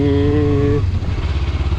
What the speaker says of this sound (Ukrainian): двигунчик дуже-дуже тихенько працює